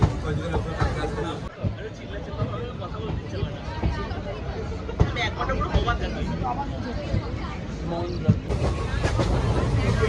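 Low rumble and rattling of the Haldibari express carriage leaving Kolkata station, with chatter and crowd noise from passengers inside throughout.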